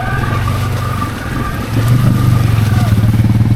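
A Can-Am Outlander XMR 700 ATV engine roars steadily as its wheels spin in a swamp, with a louder surge partway through as the throttle opens, close and continuous with no talk over it.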